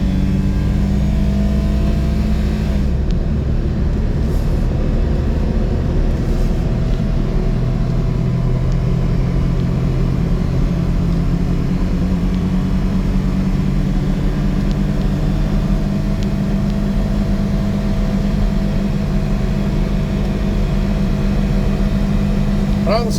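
A 1996 Daihatsu Hijet 4x4 dump truck engine runs steadily with a low, continuous rumble, close and loud, holding an even drone through shifts with no talk over it.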